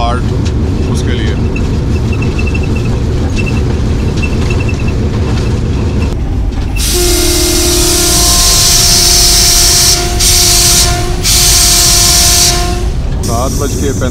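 Kohat Express 134 Down passenger train running on the rails past a station near a cement factory siding, a steady loud rumble with long sustained tonal whines and hiss swelling midway, voices faint underneath.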